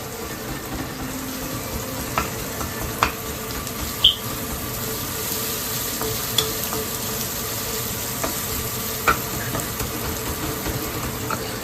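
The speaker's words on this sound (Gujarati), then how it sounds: "જો આમાં વઘાર કરવામાં આવે" Spice tempering (vaghar) for sambar sizzling quietly in a non-stick pan in a home kitchen, a soft steady hiss broken by occasional light clicks and taps of a wooden spoon.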